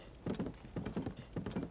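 Horse hooves clip-clop in a Legend of Zelda video game, an even trotting rhythm of paired hoofbeats repeating in three quick groups at moderate volume.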